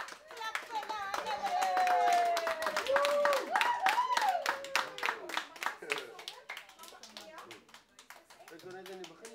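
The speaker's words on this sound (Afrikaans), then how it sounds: "Klap vir hulle." Audience clapping for small children at a creche Christmas concert in Saldanha: a dense run of hand claps lasting several seconds, fading out toward the end, with children's voices and adult talk mixed in.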